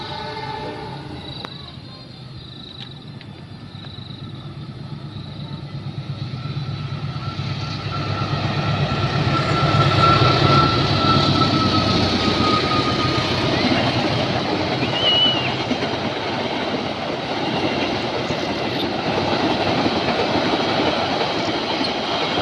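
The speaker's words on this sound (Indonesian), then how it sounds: "Oke, ada kereta dari arah kiri." A commuter train approaches from the left at a railway line, its rumble building from a quiet start to a loud, sustained roar with wheel clatter and a brief horn-like tone, passing close by.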